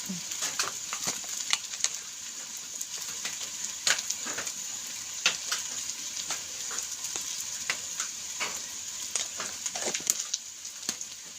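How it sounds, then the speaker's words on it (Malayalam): Mezhukkupuratti stir-fries with chili powder in a pan, a steady close sizzle with frequent scraping and tapping of a spoon stirring through it. "ഇനി ഇളക്കിട്ട് നന്നായിട്ട് ഇളക്കി കൊടുക്കണം"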